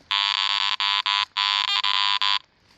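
A Garrett AT Max metal detector gives its iron audio tones, a loud, harsh buzzing drone broken into several short and long pulses, close and alone, before it stops near the end.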